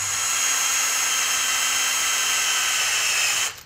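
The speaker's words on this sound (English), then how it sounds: "Hard wood, you can tell even with that drill." A power drill bores into hard pallet wood in a garage, one steady loud whine held for over three seconds before it cuts off.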